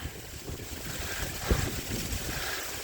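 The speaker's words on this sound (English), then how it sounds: "Oh man, just one more beautiful waterfall." A waterfall on the Ozark Highlands Trail gives a steady, broad rushing roar of falling water, heard at moderate distance and fairly faint, mixed with some wind buffeting the microphone.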